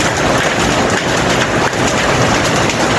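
Hailstones falling in heavy rain make a dense, loud, unbroken patter and hiss that fills the whole moment, close by and without voices.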